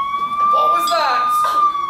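A steady, high, piercing siren tone holds throughout while voices shout over it nearby.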